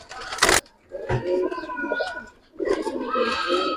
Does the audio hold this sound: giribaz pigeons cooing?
yes